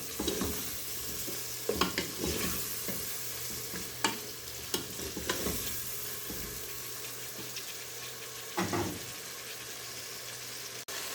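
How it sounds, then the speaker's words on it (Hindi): Spice masala for mutton and turnip curry is stirred and fried in a pan, a soft steady sizzle broken by scraping spoon strokes and occasional knocks against the pot, close by and without speech. "इसको हमने अच्छी तरह से भून लेना है मसाले को"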